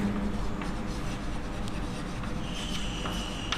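Chalk or marker scratches across a board during an electrochemistry lecture, with faint intermittent strokes against a steady room hum and no talking.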